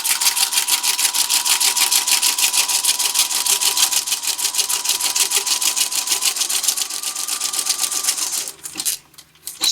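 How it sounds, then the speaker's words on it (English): Sewing machine stitching straight down the centre of a vellum junk journal page, a steady rapid needle chatter running continuously at close range before stopping near the end, no talk. "I'm just going to start sewing straight down the centre"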